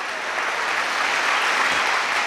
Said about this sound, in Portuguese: Uma grande salva de palmas para Jesus